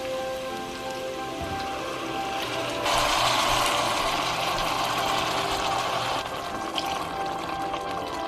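Homemade tomato sauce poured from a jar into a pot in a home kitchen, a steady wet splashing pour that swells louder midway and runs continuously, close up with no talk.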